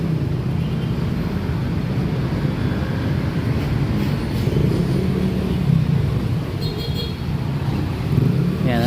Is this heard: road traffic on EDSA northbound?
yes